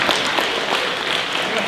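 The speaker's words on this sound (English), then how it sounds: "But bring him a round of applause now" A short burst of audience applause for Mr. Hartman at a magic show, dense clapping filling the moment at steady loudness.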